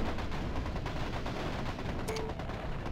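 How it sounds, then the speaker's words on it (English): Steady, dense gunfire from a MechCommander Gold battle on hard difficulty, with continuous rattling shots and explosions forming an unbroken din with no pause, plus a brief tonal beep near the end. "I am under enemy fire."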